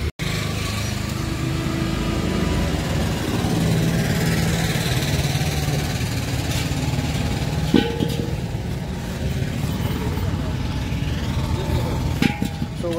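A scooty scooter engine running steadily while riding on a cold day, a continuous buzzing drone with a few clicks and bumps along the way, no talk heard.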